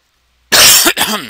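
A single sharp, loud cough, followed by a short second burst, close to the listener.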